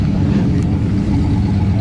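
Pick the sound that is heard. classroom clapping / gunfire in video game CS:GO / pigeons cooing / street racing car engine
street racing car engine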